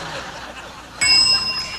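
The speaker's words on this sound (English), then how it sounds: "describe it when you hear the bell" A single bright bell rings out on the TV game show Blackout, a clear ding that cuts in sharply and hangs for about half a second after a low murmur of studio chatter.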